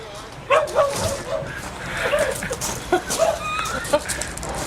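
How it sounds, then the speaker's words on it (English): Several dogs bark, yip and whimper in excited, irregular bursts close by, mixed with people talking. "It's exciting the dogs, whatever it is."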